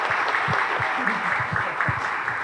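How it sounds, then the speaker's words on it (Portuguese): Steady audience applause fills a business IT breakfast event hall, dense and continuous for a couple of seconds with no break in the clapping. "Queria estender os aplausos e intensificá-los"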